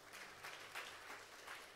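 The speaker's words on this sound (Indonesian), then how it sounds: "Beri tepuk tangan bagi Allah kita." A church congregation claps together in steady, dense applause at moderate distance, with no voices standing out.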